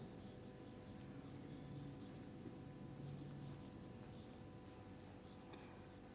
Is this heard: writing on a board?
yes